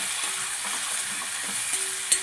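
Turmeric, salt, chili powder and curry leaves sizzle in hot oil in a pan for a Kerala fish curry, a steady close frying hiss broken by light scrapes of a spoon stirring, with no talking.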